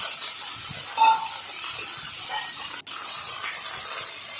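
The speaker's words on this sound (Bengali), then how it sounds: "এবার আমি এখানে টমেটো কুচি আর পেঁয়াজ কুচি দিয়ে দিচ্ছি।" Chopped tomato and onion hitting a hot pan give a steady, bright sizzle with a brief sharp clink partway through, loud and continuous without voices.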